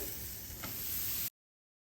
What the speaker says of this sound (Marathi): तवा तापलेला आहे, त्याच्यावर आता हे घालूया असे